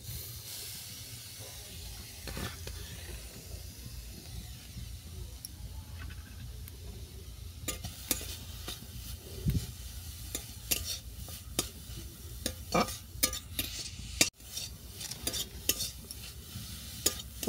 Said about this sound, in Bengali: এর মধ্যে গ্রেট করা ওলকপিটাকে ভেজে নিচ্ছি।